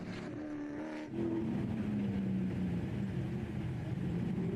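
Race car at UMI's Muscle on the Mountain accelerating hard on a track, engine note dropping as a gear is grabbed and then rising steadily in a loud sustained roar.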